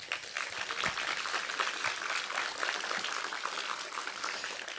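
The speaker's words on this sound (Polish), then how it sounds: "bardzo proszę o oklaski na wstępie" An audience at a science festival lecture applauds, giving a dense, continuous clapping that holds steady and fairly loud from start to finish.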